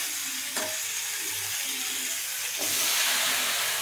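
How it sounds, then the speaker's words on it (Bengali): Black cumin, onion and green chili tempered in hot oil, a close, continuous sizzling hiss that swells louder partway through as the spices hit, with faint clinks of stirring and no talk. "তো এবারে মা এতে ফোড়নটা দিয়ে দেবে।"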